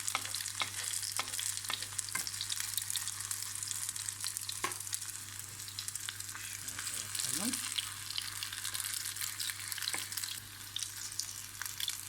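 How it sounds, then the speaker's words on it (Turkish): Potato fritters frying in a pan of hot oil, a steady close sizzle running throughout with occasional stirring scrapes and clicks, no voices. "Yağımız ısınınca şöyle bir yemek kaşığı kadar mücverimizi tavamıza alıyoruz"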